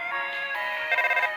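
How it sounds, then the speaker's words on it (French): A cheerful electronic phone ringtone from the video game Undertale, chiming in a bright repeating pattern that shifts pitch partway through, clear and close with no voices over it. "Ring. Allô, Toriel à l'appareil"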